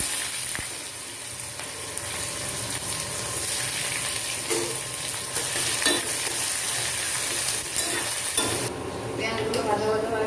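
Whole cumin seeds and dried red chillies sizzle in hot oil for a tempering, a steady crackling fry close by with scraping stirs and occasional clinks of a utensil against the pan.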